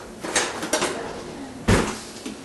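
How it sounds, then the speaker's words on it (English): Kitchen clatter while grabbing a spoon from a drawer, with a few scattered knocks and metallic clinks followed by one louder thump, close and brief. "Let me grab a spoon."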